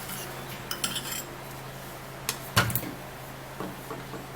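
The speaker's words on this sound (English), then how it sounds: "we'll do the same thing by mixing and stirring it all up together" A homemade lip mixture with a little baking soda being stirred in a bowl, with a few sparse metallic clinks of a spoon against the dish over quiet background.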